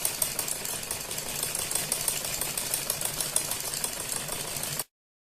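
A sewing machine stitches a salwar with a fast, even mechanical chatter that runs steadily for about five seconds, then stops abruptly into silence.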